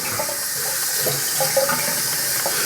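Tap water runs steadily onto a shaving brush at a bathroom sink, a continuous close splashing hiss with a few brief tonal gurgles as the bristles fill.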